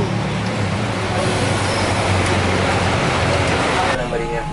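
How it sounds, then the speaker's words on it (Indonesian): A Sempati Star Scania bus waits to depart Medan on a wet, rainy road, its engine idling under a steady rumble of surrounding traffic while a voice talks nearby. "Jadi bis sudah standby di depan, siap-siap keluar dari Kota Medan."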